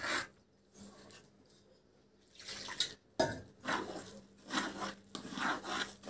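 A ladle stirs a flour, soda and water batter for a traditional Himachal Pradesh dish, making quiet, intermittent wet scraping and sloshing strokes that come in bursts close to the listener.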